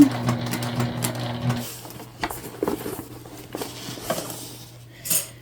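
A sewing machine stitches a multi-panel tote bag, whirring steadily at first and then giving way to intermittent taps and knocks as the fabric is handled close by.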